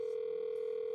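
A telephone line placing a call during a flood management authority meeting, a steady, loud single-pitch tone held for the full second.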